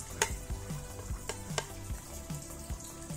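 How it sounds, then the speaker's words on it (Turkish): An omelette sizzles and fries in a hot pan, with a steady crackling hiss broken by light clicks and taps of a utensil or the pan. "Omleti tavaya koyarken şöyle tutuyoruz."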